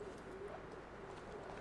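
Pigeons coo softly in Assassin's Creed II gameplay, a faint low warble set under a steady wash of ambient game noise.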